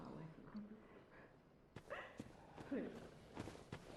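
Dogs in cages bark in Bloodborne, a few sharp barks and yelps amid footsteps and game ambience, with a voice talking quietly underneath.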